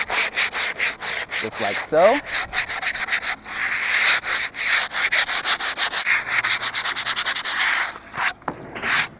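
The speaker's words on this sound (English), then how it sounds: "you're sanding it more into the board on the edges" Sandpaper or a file rubs quickly along the edges of grip tape on a wooden skateboard deck, making loud, rhythmic rasping strokes. A brief squeak comes near the start and a short spoken phrase near the end.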